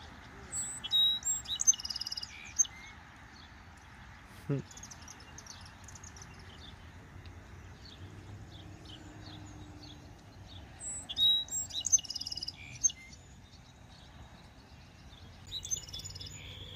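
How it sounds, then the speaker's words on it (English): Several bird chirps and short songs ring out in bursts over a steady outdoor hush, moderately distant, with quiet pauses between calls. "That's one of the things I really love about the morning or the birds singing."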